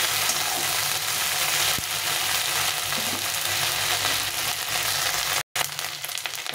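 Ginger and garlic paste frying with browned onions in a pan, a steady loud sizzle with occasional stirring scrapes, no voices.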